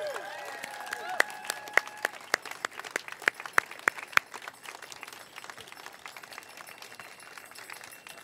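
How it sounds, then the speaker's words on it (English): Outdoor crowd at a Toronto Pride flag raising applauding the Toronto Gay Men's Chorus, a steady wash of clapping with a few sharp, close individual claps standing out early on, fading slightly toward the end. "Would you like to give them another round of applause?"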